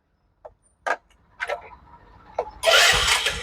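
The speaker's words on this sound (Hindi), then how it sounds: "अब इसका सेल्फ काम कर रहा है।" A few clicks and a brief starter whir, then a Bajaj Discover 150 motorcycle engine catches on its self-starter and runs steadily, close by.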